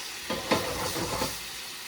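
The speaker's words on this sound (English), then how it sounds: "Stir, taste." Sauce being stirred in a pan for a roasted chicken dish, with a few soft scraping, sizzling strokes over a steady low hiss, close and fairly quiet.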